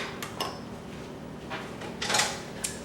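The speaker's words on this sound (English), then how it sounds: "Just stir it all up. Mix it well." Zucchini pancake batter whisked in a bowl. Soft, faint scraping swishes come in several short bursts, with one louder rattle near the end. No voices.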